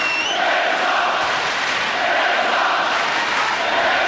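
A boxing arena crowd at Kessler versus Froch roaring in a dense, continuous wall of cheering and shouting, loud and sustained throughout.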